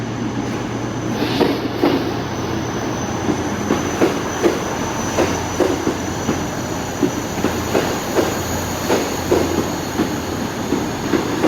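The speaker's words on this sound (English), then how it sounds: "Pulling in now is a cross country Voyager." A CrossCountry Voyager, unit 220-007 bound for Plymouth, pulls into a station with a steady diesel rumble, rhythmic clickety-clack of wheels over rail joints and a faint high squeal, loud and continuous throughout.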